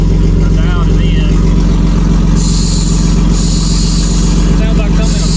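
A full-size 1:1 remote control Jeep engine running without a muffler, a loud, steady, raw mechanical drone that fills the whole clip, with hissing bursts partway through.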